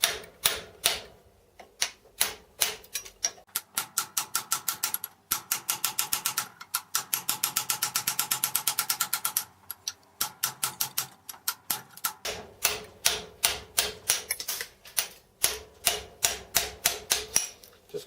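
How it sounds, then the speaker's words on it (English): Chiseling metal off a spindle head bearing cap for a Gingery milling machine, with rapid, steady metallic taps in fast rhythmic runs broken by brief pauses, close and alone. "I'll just chisel off the majority of the metal and then file it after"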